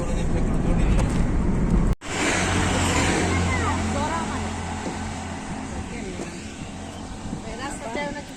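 A car drives along during a roadside family picnic trip in Habiganj, Sylhet, its steady engine and road rumble running throughout with a brief cut near the start, while people talk over it inside the vehicle.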